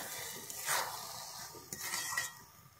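A metal lid is lifted off a pot of sweet Bengali basanti pulao as the rice water cooks down, giving a couple of soft metallic clinks and scrapes. The quiet, close sounds sit over a faint kitchen background.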